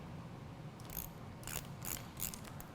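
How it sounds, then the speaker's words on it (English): A 4mm Allen wrench loosening a bolt on the handlebar controls of a BMW R80 RT motorcycle, giving three or four short ratcheting metallic clicks, faint and close, with no talk. "by loosening this bolt here with a 4mm Allen wrench"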